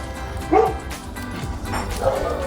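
Neighbor's dogs bark outdoors: two short bursts of barking and yipping, about two seconds apart, at a moderate distance over low background noise.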